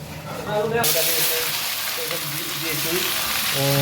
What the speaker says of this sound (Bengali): তো আধুনিক শিম আলুটাকে প্রথমে ভাজা করে নিই তেলের মধ্যে